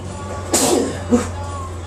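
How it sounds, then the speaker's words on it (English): A person sneezes once while making tea, a sharp, close, breathy burst followed a moment later by a shorter, softer exhale, set against a steady low background hum with no talking. "I'm gonna sneeze."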